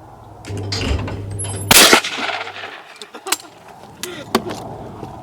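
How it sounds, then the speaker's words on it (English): A shotgun fires a pair of shots in quick succession at skeet clays on an outdoor range, the loud sharp report followed by echoing cracks and scattered clicks and thuds as the sound fades. "So we're going to shoot a pair like that just to show how different it is."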